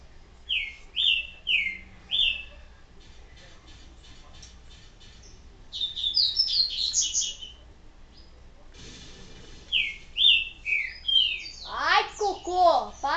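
Birds chirping in Resident Evil 4, repeated bright tweets and short trills in bursts across the clip, fairly close and loud over a quiet game background.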